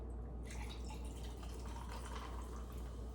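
Club soda poured over Redbreast Irish whiskey in a glass to top off a simple three-ingredient drink, a steady close fizzing trickle that runs alone for a few seconds.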